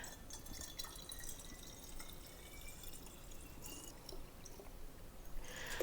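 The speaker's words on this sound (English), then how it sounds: "Okay, and then the rest is water again. So just fill this to the top." Water trickles and drips into a homemade cleaning product bottle as it is filled to the top. The pouring and splashing is faint but steady for about six seconds, with no voices.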